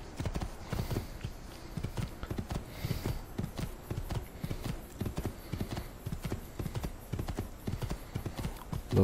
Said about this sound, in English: Okay, so look at my horse.